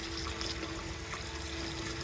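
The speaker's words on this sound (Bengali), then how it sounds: "গরম পানি দিলাম যাতে খিচুড়িটা তাড়াতাড়ি বলক আসে।" Hot water poured into a pot of khichuri cooking outdoors at a village picnic, a steady close gushing pour with a faint hum underneath.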